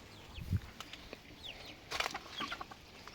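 A laying hen digs in soil for earthworms, giving short scratching thumps and several soft, chirpy clucks spread across the moment, fairly close and quiet.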